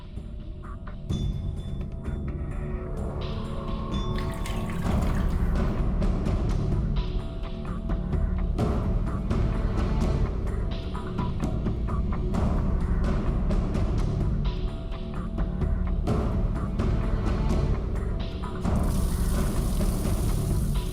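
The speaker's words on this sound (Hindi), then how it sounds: "अभी मेरा नहाने का पानी भर" Water fills a bath from a tap indoors, a steady continuous gush and splash running throughout with some clattering and background noise, no one speaking.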